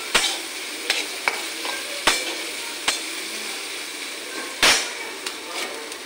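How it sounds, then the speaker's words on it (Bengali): Carrots and onions frying in a pan with a steady sizzle, punctuated by sharp scraping clacks as a spatula stirs them, close and moderately loud. "গাজর পেঁয়াজ ভালো করে একটু ভাজা ভাজা করে নেব।"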